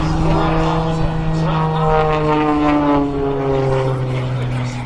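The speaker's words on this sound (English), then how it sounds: "His favorite plane of choice is what you see today, the MXS RH." An MXS RH aerobatic propeller plane performs at an air show, its engine droning loud and continuous with a pitch that slowly falls as it passes, filling the whole stretch without a break.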